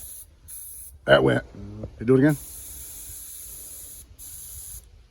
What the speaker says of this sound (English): now spray it one good time